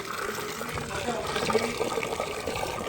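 Powder is stirred into water by hand, a soft continuous sloshing and swirling of liquid, fairly faint, with a voice talking over it.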